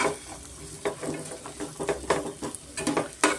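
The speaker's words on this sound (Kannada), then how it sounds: "ಮುಲ್ಲಂಗಿ ಎಣ್ಣೆನಲ್ಲಿ ಚೆನ್ನಾಗಿ ಸ್ವಲ್ಪ ನಾವು ಫ್ರೈ ಮಾಡ್ಕೋಣ" Sliced radish frying in oil in a pan, a steady soft sizzle broken by repeated scraping and stirring clatters of a spoon against the pan, close up and without any talk.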